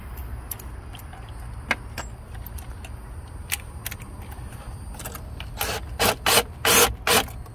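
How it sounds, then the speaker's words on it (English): Hose clamps are tightened on the thermostat housing of a 2001 Chevy Blazer: faint scattered metallic ticks and scrapes over a low hum, ending in a few louder, close rasping bursts of tool work. "And then we'll just go ahead and tighten these hose clamps back down"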